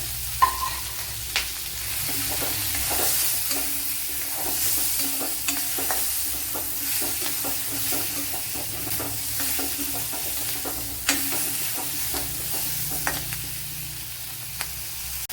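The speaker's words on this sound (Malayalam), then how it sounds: "ഒരു തക്കാളി ഇതുപോലെ അരിഞ്ഞെടുത്തിട്ടുണ്ട് അത് ഇട്ട് കൊടുക്കുക" A chopped tomato fries in a pan of pumpkin masala curry, giving a constant sizzle with frequent stirring scrapes and spoon taps over about fifteen seconds. No one talks.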